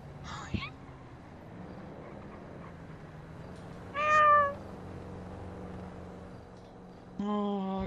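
A cat meows several times, short nearby cries spaced out over a low engine-like hum, with a person speaking briefly near the end.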